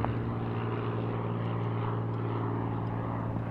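A Cirrus propeller airplane drones steadily on takeoff from a general aviation airfield in San Diego, a constant mid-distance engine hum with a strong low tone and no speech.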